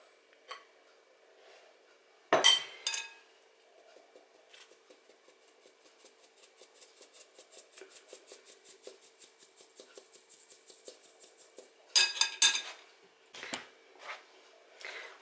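Soft, steady tapping and rattling of a sieve as flour mixed with cocoa, baking powder and salt is sifted into a bowl of eggs for a red velvet cake, framed by a few louder clinks of utensils.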